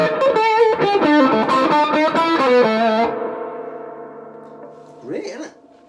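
Guitar through a Cornell Romany 12 amp with the EQ cut switched in, playing a busy, driven strummed passage for about three seconds. A sustained chord then rings out and fades, followed by one brief strum.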